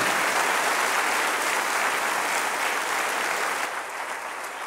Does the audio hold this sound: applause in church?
yes